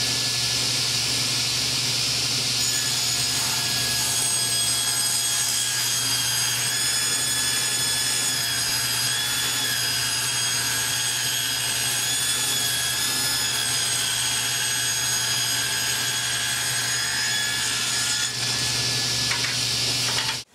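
A power saw cutting wood fed against a fence with a feather board, a loud continuous high whine with a steady drone, running unbroken for about twenty seconds and ending abruptly, with no talk.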